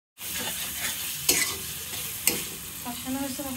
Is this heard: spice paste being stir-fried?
yes